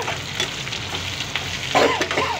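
Onion pieces fry in a pan with potatoes for a potato fry curry, a close steady sizzle with occasional stirring scrapes and a brief louder burst near the end, no talking.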